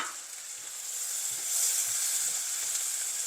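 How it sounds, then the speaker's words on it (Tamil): Chopped tomatoes sauté in a hot pan for prawn biryani, giving a steady, close sizzle and frying hiss with occasional soft stirring scrapes. "இப்போ இந்த தக்காளி நல்லா வதங்கணும்"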